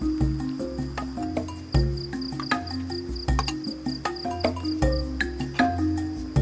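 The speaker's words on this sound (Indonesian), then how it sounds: "Suara jangkrik mulai ramai terdengar." A dense night chorus of crickets and frogs near a cave, with steady high chirping and repeated low croaks pulsing throughout, close and fairly loud.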